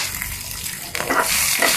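Onions and tamarind fry lightly in a pan for peanut chutney, giving a soft close sizzle with a stir or two, brief and alone without talk.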